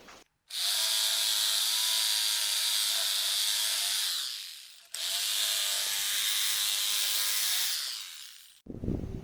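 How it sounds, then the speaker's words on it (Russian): Reciprocating saw cutting timber for a frame shed foundation, two long loud buzzing runs with a steady motor whine that tails off as each cut finishes, a short gap between them. "понадобится сабельная пила."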